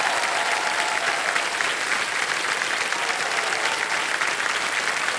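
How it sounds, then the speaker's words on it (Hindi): Steady, sustained applause from a TV quiz show studio audience, dense and even throughout, with no talk over it. "तालियां बज जाए इनके लिए।"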